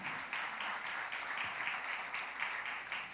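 Sustained applause from a church congregation during a celebration service, a continuous even wash of clapping with a gentle pulsing rhythm, somewhat distant and soft.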